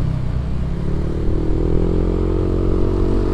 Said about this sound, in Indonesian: motor gue habis dicuci steam kok agak berbet ya